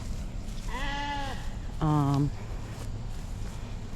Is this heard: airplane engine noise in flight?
no